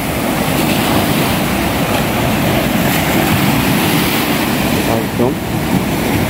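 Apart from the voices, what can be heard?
sea waves coming in on a Mauritius beach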